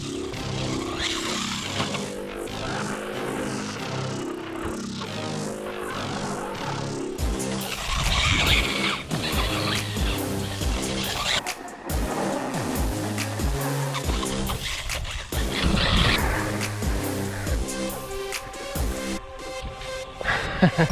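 A budget JJRC radio-controlled car drives and skids, its small motor whining and tires squealing in repeated bursts that rise and fall over about twenty seconds.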